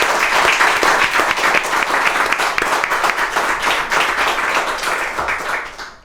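A live audience at a breakfast talk show claps vigorously and steadily, with distinct close hand claps forming a loud sustained ovation that tails off at the end.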